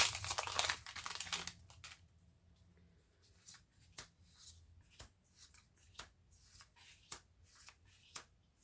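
A Kaldheim booster pack is torn open, with a burst of crinkling foil wrapper followed by soft scattered clicks and taps of cards being handled, quiet and close with no speech.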